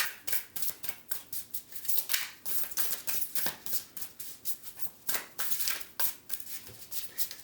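Tarot cards are shuffled by hand in quick, soft riffling bursts, a close and quiet rhythmic flutter of repeated card slaps continuing without pause.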